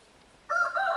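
A rooster crows once after a quiet half second, a loud, close, drawn-out cock-a-doodle-doo that starts abruptly and holds to the end.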